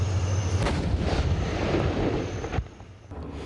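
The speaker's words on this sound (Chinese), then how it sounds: "首轮坦克火炮成功命中，精确打击了蓝军高地目标" Tank cannons firing during a night military exercise, a loud heavy rumbling roar from massed guns that rolls on and then drops sharply, leaving a lower distant rumble.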